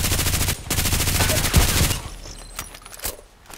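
RPKT tactical machine gun in the Contract Wars video game, firing a loud, rapid sustained burst for about two seconds, followed by scattered lighter clicks and game sounds.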